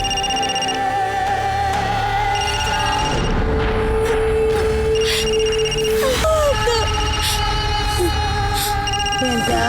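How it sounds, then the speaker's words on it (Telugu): A telephone rings in a Telugu crime drama, its tone pulsing repeatedly through the clip over a steady hum and dense background noise. "బృందా, బృందా, బృందా, ఫోన్లో ఎవరో నన్ను చూడమ్మా. చాలాసేపు నుంచి రింగ్ అవుతోంది"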